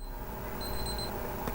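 A timer goes off with a short burst of thin, high electronic beeps partway through; the tone rings for about half a second against a steady room hum, with no voice over it.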